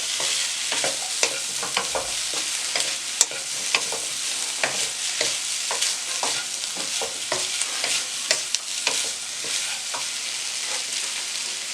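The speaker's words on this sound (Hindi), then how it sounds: "उसके बाद चिकन डाल दें। मिक्स करें अच्छी तरह से।" Chicken pieces sizzle steadily in hot oil in a pan while being stirred and mixed, with a continuous frying hiss broken by frequent scraping and clinking strokes of a utensil; no voices.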